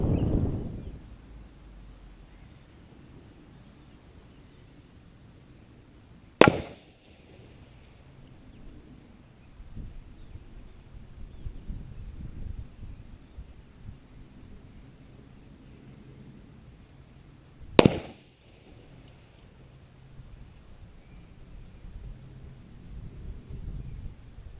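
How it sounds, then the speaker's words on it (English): Two sharp rifle reports from a Lee Enfield No.4 Mk.1, heard from downrange at the target, each a sudden loud crack followed by a rolling echo, about eleven seconds apart over outdoor wind noise. "listen carefully to the report of the rifle over the next few shots"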